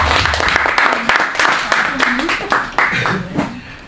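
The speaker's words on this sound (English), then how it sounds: "Let's give Ma'am Lewis and Manager Deborah a round of applause," An audience at a TESOL teaching practicum in the Philippines claps for the teachers and managers, a loud close burst of many hands in uneven rhythm that fades toward the end, with a voice speaking over it.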